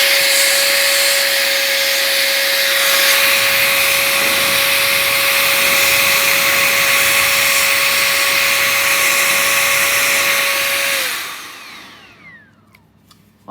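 Opolar cordless air duster blowing at high pressure, a loud, steady high-pitched whine and rushing hiss that holds evenly for about eleven seconds, then cuts off and fades quickly to near silence.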